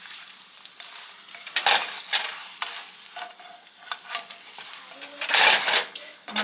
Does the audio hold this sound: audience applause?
no